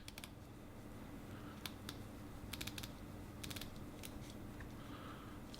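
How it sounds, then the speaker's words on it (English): A 2016 Ray II watch bezel turning in 120-click steps, producing crisp, tight little ratcheting clicks in quick bursts, close and quiet against a soft background hush. "the bezel now went from a 60 click"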